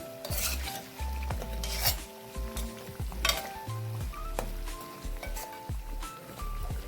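Badusha dough fries in hot oil, a steady close sizzle with bursts of bubbling and occasional scraping of a utensil against the pan, no talk over it.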